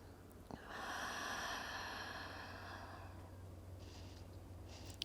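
A single long, soft exhale during a guided breathing exercise, a steady airy rush lasting a couple of seconds before fading into quiet.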